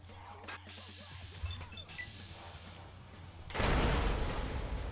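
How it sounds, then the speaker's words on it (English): A frag grenade blows up in Fallout: New Vegas, a sudden loud broadband blast late in the clip that lingers as a rumbling roar, following quieter scattered game sounds and distant gunfire. "I'm frag grenading them."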